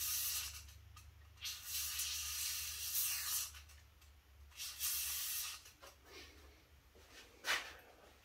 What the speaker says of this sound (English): Let's try a little bit more of this Specialist Spray and Stay Gel Lubricant by WD-40.